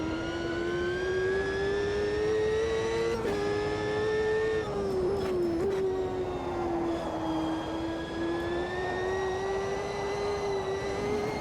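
A race car in the AMS2 racing game drives laps, its engine holding a loud, steady drone that rises and dips slightly with throttle and gear shifts, continuous and close without pause.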